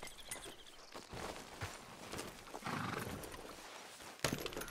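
Horse hooves clip-clopping in Red Dead Redemption 2, with whinnies and a steady walking gait heard up close, alone without talk, plus a sharper burst near the end.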